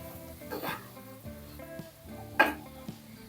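A spoon scrapes and clinks in a pan of fish curry with chopped tomato and chili powder, with soft sizzling underneath and one louder metallic knock near the end. No one speaks.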